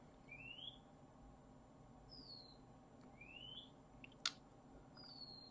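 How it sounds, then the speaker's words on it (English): A bird sings faint, thin rising and falling whistles several times in the background of a quiet room, with a brief small click partway through. "I'm not sure if you can hear that bird behind me in the background."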